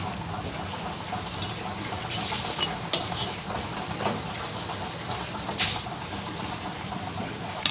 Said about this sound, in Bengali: বেশ লাল লাল করে ভাজা হয়ে গেছে এবার এগুলো তুলে নিচ্ছি